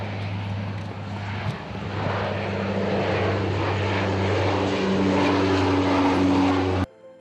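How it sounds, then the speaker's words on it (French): A propeller airplane's engines run loud and close, with a steady droning hum and rising tonal whine as it builds power for takeoff, then cuts off abruptly near the end. "Les moteurs tournent et le décollage semble imminent. L'avion fait sa rotation pour épouser la position départ. Puis vient le décollage."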